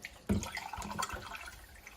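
Water is poured from glasses into a cooking pot for a Greek-style chicken in tomato sauce, a close splash followed by steady trickling and dripping.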